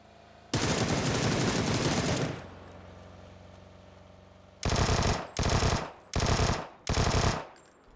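Automatic gunfire in PUBG on the remastered Erangel map: one long sustained burst, then four short separate bursts after a pause, loud and close with no talking.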